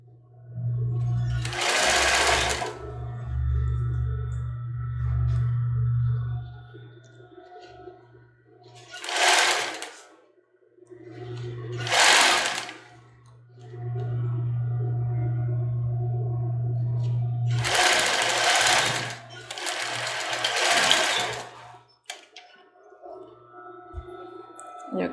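Sewing machine stitching a cropped top, running in several loud close bursts of varying length separated by short pauses, including a few quick reverse stitches, with a low motor hum between runs.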